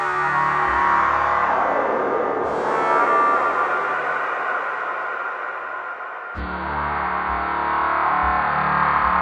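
A synthesizer plays layered drones in a techno session, producing loud sustained harmonic tones that hold steady and then shift pitch and texture twice, continuing alone without talk.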